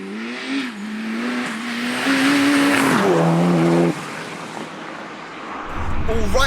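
A tuned 607bhp Seat Leon Cupra accelerates hard, its engine note rising steadily through the revs before a gear change drops the pitch, climbing again with some tyre noise, loud and close.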